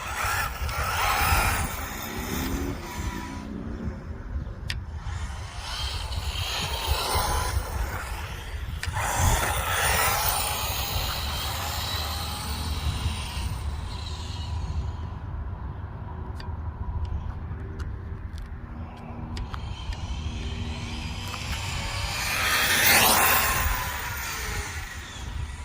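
An ARRMA Typhon 6S V5 RC car with earplugged center diff, its electric motor whining and surging at part throttle in repeated bursts, loud and close, with a sharp high rev near the end.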